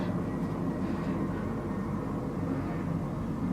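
A fixed-wing airplane flies overhead, a steady, low, even rumble that holds at a constant level throughout, with no talking.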